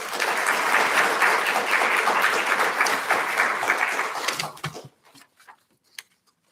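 Audience applause at a college awards ceremony, a dense sustained burst of clapping from a large crowd that tapers off quickly after about four seconds, leaving a few scattered final claps.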